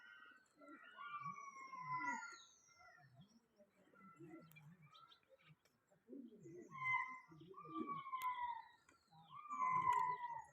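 Several birds call and warble in overlapping bursts, with low cooing-like notes underneath and a faint siren-like wail; no one speaks.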